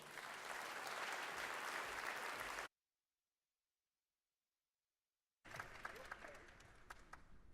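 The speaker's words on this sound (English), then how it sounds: "Please give them a big round of applause." Audience applause at an opening ceremony in Barcelona for a pianist and a tenor, dense and steady, breaking off into silence for a few seconds before a second burst of clapping resumes.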